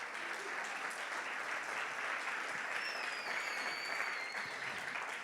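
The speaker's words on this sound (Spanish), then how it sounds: "Dale un aplauso al Espíritu Santo." Steady applause from a church congregation fills the whole stretch, dense and continuous, with a faint whistle-like tone rising briefly over the clapping.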